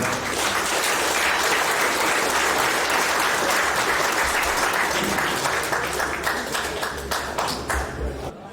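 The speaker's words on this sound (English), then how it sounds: "Another big round of applause, ladies and gentlemen." Audience applause at a boxing hall of fame ceremony, a loud, dense sustained clapping from a full room that holds steady for about eight seconds before tapering slightly at the end.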